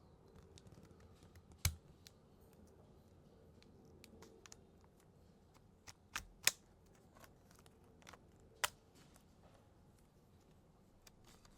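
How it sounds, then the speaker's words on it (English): A plastic pry tool works around the edge of a Samsung Galaxy A15 5G midframe, giving quiet scratching and scattered sharp clicks as the plastic clips pop free, with a few louder snaps. "use a plastic cartwright tool to create an opening to separate the midframe"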